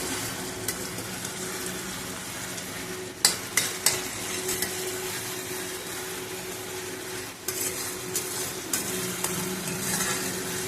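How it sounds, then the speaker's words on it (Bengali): Omelette curry masala with tomato and ginger being stirred and sautéed in a pan, a steady close sizzle under scraping strokes, with a few sharper knocks of the spoon against the pan partway through. "ভালো করে এদিক ওদিক ঘুরিয়ে এটাকে কষাই।"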